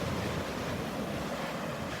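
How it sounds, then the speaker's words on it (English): Ocean waves roll onto the beach at Delnor-Wiggins, heard as a steady broadband surf wash mixed with some wind rumble against the microphone. "Listen to those waves."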